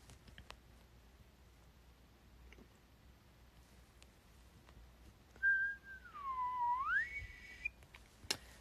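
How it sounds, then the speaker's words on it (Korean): One person whistling at night, a single faint, short wavering whistle that dips and then rises, heard late against a quiet room with small clicks. "밤에 휘파람 불면 뱀 나온다 그랬는데."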